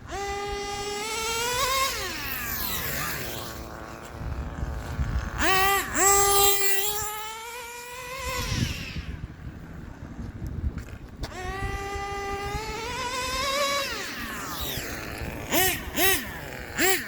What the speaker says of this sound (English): She's idling and running beautifully.